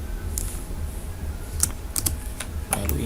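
Keystrokes on a computer keyboard sound in a short sparse run while files are renamed and enter is pressed, with a few crisp nearby clicks over steady low background hum.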